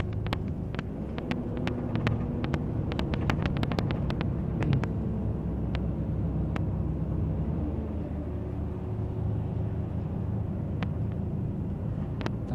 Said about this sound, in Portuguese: Descendo com o freio motor ligado aí no terceiro estágio.